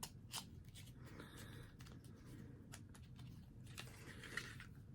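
Crisp snipping and crinkling as sealed plastic packaging of an Ipsy beauty bag is cut open with scissors, a run of short irregular clicks and rustles close by.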